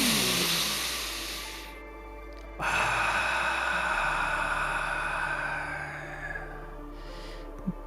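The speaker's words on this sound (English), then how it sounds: "nice deep breaths in through our nose, exhaling through our mouth" A slow meditation breath, drawn in through the nose for about two seconds, then after a short pause let out through the mouth in a long, steady, airy exhale lasting several seconds, close and alone.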